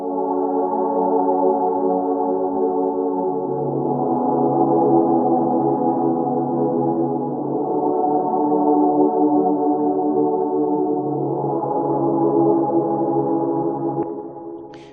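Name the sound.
ambient synth pad with bass tones and choir-like sounds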